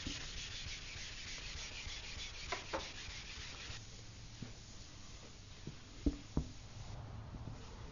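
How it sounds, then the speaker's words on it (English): A scuff pad rubs across a car's painted surface to scuff it for adhesion, a steady close abrasive swishing with a few sharp knocks near the end and no talking. "All we need to do is basically get the tooth out so that we can promote adhesion. And in that case, all you need is a scuff pad."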